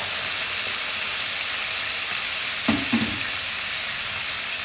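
Onion flowers and snow peas stir-fry in a hot pan, a steady close sizzle and hiss with a couple of brief stirring knocks near the middle.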